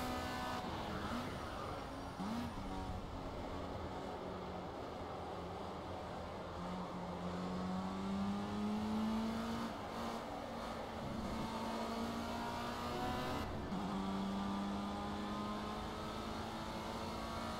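Formula Rookie open-wheel race car engine in Project CARS on a wet track, droning steadily with rising and falling pitch through gear changes, close and continuous with no talking.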